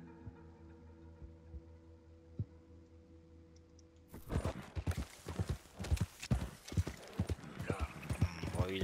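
A horse in the Red Dead Redemption 2 video game, with a low hum at first and then steady, close clip-clop hoofbeats in a quick rhythm.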